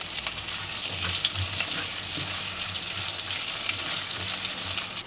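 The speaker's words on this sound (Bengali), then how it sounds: "এবার আলুগুলো ভাজা হয়ে গেছে" Steady, dense sizzling of potatoes frying in hot oil, close and continuous throughout with no talking.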